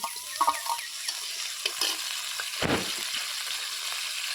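Dried fish (shutki) fries in a pan with a steady, soft sizzle flecked with small crackles and pops. It is close but fairly quiet, with no talking.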